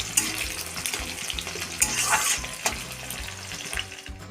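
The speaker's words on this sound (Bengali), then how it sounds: "এগুলো একটু লাল লাল করে ভেজে নেব।" Onions frying with bay leaf and five-spice in mustard oil for a spinach dish, giving a steady, fairly loud hiss and crackle throughout with occasional sharper spatters, no talking.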